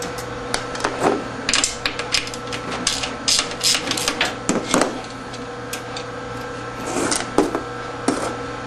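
A 13 millimeter wrench loosens bolts during a bearing job, giving a run of quick metallic clicks and taps in irregular bursts, close and moderately loud.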